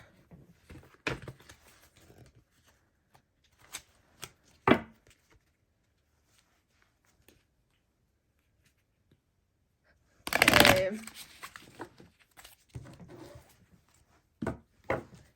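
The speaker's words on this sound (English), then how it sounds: "I always have to be careful when I shuffle these cards not to get into the flame of my candles." Tarot cards are shuffled in short, scattered papery bursts near the mic, including one louder sustained riffle, separated by quiet pauses and a few soft taps.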